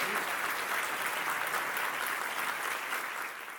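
Steady, dense applause from an audience at a university chancellor's retreat keynote, honoring the outgoing board chair, sustained evenly without voices for several seconds.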